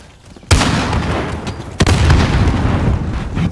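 A stun grenade bursts in Call of Duty Modern Warfare multiplayer with a loud sharp boom, then a dense crackle of gunfire and a second sharp blast as rapid firefight noise continues.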